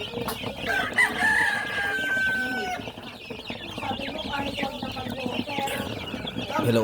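Chicks and chickens on a farm cluck and cheep continuously at close range, with a rooster-like crow rising early on, forming a busy, dense flock chorus throughout.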